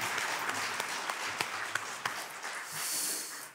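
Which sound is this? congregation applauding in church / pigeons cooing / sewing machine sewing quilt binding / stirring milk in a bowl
congregation applauding in church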